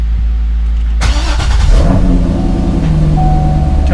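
A Chevrolet C6 Corvette engine cranks and catches with a sudden roar after a spark plug change, then settles into a loud, steady idle close by.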